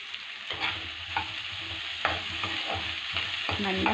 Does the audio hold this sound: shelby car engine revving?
no